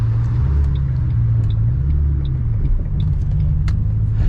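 Ford Mustang accelerating hard from a launch, a steady loud, close engine rumble lasting throughout with no talking.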